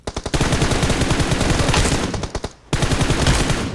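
Automatic gunfire from the online shooter WoW2 (Wolfteam) rattles out in fast, loud bursts. A short pause splits two long volleys, and there is no talk.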